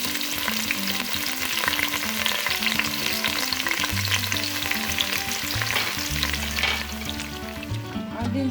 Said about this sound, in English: So I'm going to add the onions and the scent leaf.